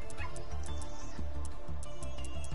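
An excited dog in a cage whimpers and yips in rapid, high-pitched bursts, close and fairly loud, with a steady hum in the room behind it.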